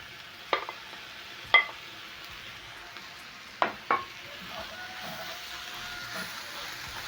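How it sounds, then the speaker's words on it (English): Minced meat stew sizzling softly in a pan as tomatoes are stirred in, with a steady frying hiss and several sharp scraping clatters of the spoon against the pan. "Stir in the tomatoes"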